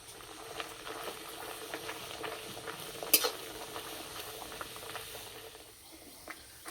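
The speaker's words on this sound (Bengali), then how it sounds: "তেল ভালো করে গরম করে নিয়েছি, এবার ভেজে নেব।" An egg paratha fries in white oil in a kadai over medium heat, giving a quiet, continuous sizzle with faint crackles and one sharp pop.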